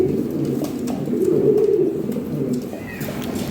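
Red Lahori pigeons coo in low, rolling calls close by, repeating through the moment with faint background noise.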